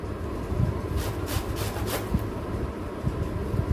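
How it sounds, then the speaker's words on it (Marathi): Raw mango being grated by hand on a grater into long shreds, heard as a quiet continuous rasping with a few soft scraping bursts, close by and with no talk. "सगळ्या बाजूने छान कैरी किसून घेते मी"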